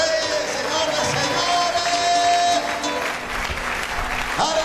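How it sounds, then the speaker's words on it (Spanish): A church congregation applauding loudly, dense continuous clapping with crowd noise and voices mixed in, sustained without a break. "Den un aplauso fuerte al Rey de Reyes"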